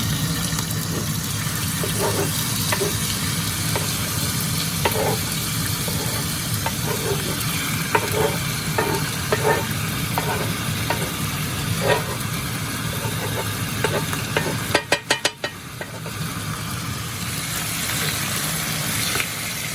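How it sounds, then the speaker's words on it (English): Steady loud sizzling of chicken frying in olive oil in a frying pan, with occasional stirring scrapes and clinks throughout, and no talking. "Add our chicken into the frying pan"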